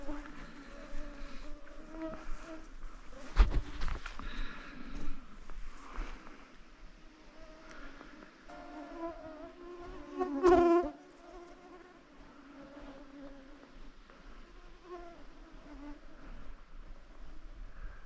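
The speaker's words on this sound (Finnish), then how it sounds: "Joo, hyvin tuntuu olevan hyttysiä. Ihan sikana." Mosquitoes swarm around a hunter during a spring 2024 roe buck hunt at sunset, a faint, continuous high whine that swells as one passes close by the ear, with a few sharp clicks.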